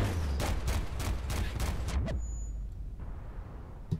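Heavy firing from a tank in Battlefield: Bad Company during a squad deathmatch, a rapid series of loud booming shots with a low rumbling bed, then a sharp whine and quieter tail.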